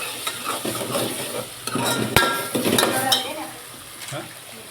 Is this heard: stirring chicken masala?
yes